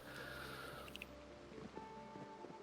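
Rain beginning to fall on a farm in the zombie survival game Project Zomboid, a soft, steady hiss of rainfall that runs faintly and evenly throughout, with a few light tonal game sounds in the background.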